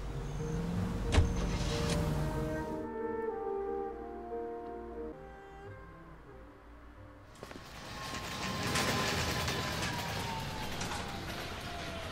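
A car drives in the video game L.A. Noire, a steady engine hum with a smooth rising tone that dips briefly into a muffled lull before the fuller engine noise returns.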